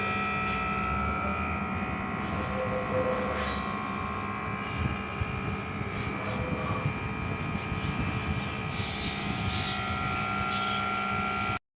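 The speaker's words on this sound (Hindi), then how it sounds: "अब हमने लगा दिया है जी हाई स्पीड पे। ये देखें कैसे चल रहे हैं इंजेक्टर।" Car fuel injectors on a test bench run at high speed, about 7,500 RPM with four pulses, making a continuous, dense, rapid buzzing drone that stays steady and fairly loud throughout.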